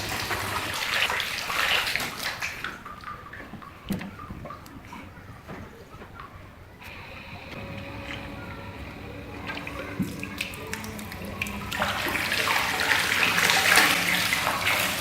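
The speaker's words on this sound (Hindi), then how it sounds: "तो इसके ज़रिए अब हम इस मोटर को चलाने जा रहे हैं।" A homemade 12V DC water pump motor, run at 24 volts, pushes water that gushes and splashes into a tank, loud at first, quieter in the middle, then building again into a steady close rush.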